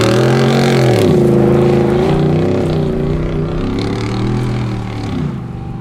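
Ford Raptor truck engine fitted with a Corsa Extreme exhaust and no resonator, a loud, steady deep rumble close by that rises and dips slightly through its run, with no talking.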